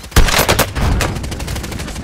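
Rapid automatic gunfire from Call of Duty Warzone: loud, close bursts of shots in a quick stuttering rhythm, opening with a sharp blast and continuing in tight repeated volleys to the end, with a voice briefly speaking.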